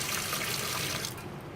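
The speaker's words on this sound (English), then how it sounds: "and then you wash it off again with cold water." Cold tap water runs steadily over boiled palak (spinach) in a strainer, a close, hissing splash that stops abruptly near the end.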